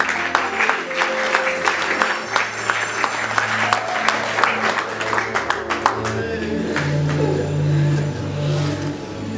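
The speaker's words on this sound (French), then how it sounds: "Est-ce qu'on peut l'encourager par des acclamations?" An audience applauds and cheers at a gathering, with a dense patter of clapping lasting several seconds under a low hum, gradually thinning toward the end.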